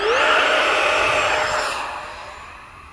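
A Freewing Stinger 64mm electric ducted fan RC jet passes overhead at a flight line with a loud rushing whine whose pitch falls as it flies away and fades over three seconds.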